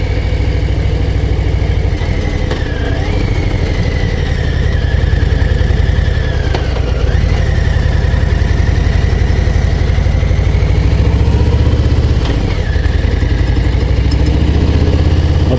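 Harley-Davidson Low Rider ST motorcycle climbing a mountain pass, its engine droning steadily and loud throughout, with rising and falling whine as the rider shifts and accelerates, plus constant wind rush.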